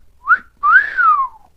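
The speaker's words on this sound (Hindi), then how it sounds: "उसने सीटी बजाई।" A man gives a short two-part whistle: a brief rising chirp, then a longer swooping tone that rises and slowly falls away, clear and close with no other sound.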